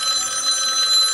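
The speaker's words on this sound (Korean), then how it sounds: "G 플립 톰 브라운 에디션의 기본 벨소리 한번 들려드려 볼게요" The default analog bell ringtone of a Galaxy Z Flip Thom Browne edition phone. A short, bright, continuous old-style telephone ring sounds close and clear, with no other sound around it.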